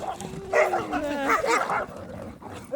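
Kyrgyz Tiger dogs, a hunting breed, bark and yip close by, a few sharp barks blending into whiny whimpers over a couple of seconds, with faint talk in the background.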